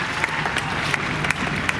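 Crowd applause at an award ceremony for faculty members in Gorakhpur: dense, steady clapping from many hands that lasts the whole moment, with a few sharper claps standing out.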